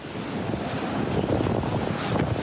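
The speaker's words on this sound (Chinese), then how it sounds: "兰屿伫咧透早5点就测到17级的强阵风" Strong gusts from Typhoon Kong-rey sweep Lanyu island off Taiwan's east coast, a loud continuous roar of wind buffeting the microphone, rising and falling without any voices.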